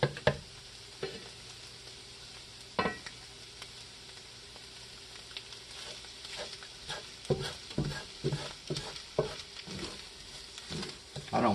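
Eggs frying in hot oil in a cast iron pan, a steady soft sizzle with scattered sharper crackles and spatters, no voices.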